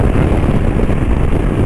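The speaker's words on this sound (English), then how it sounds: "Oh, that's windy." Heavy wind buffets a motorcycle helmet microphone with the visor open, a loud, continuous low roar and rumble that fills the whole moment without a break.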